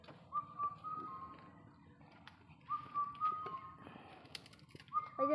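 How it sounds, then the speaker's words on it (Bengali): Village birds give faint, intermittent whistled calls in several short bursts against a quiet rural backdrop, with no one speaking. "পাখি ডাকে, গ্রাম অঞ্চলের পাখি।"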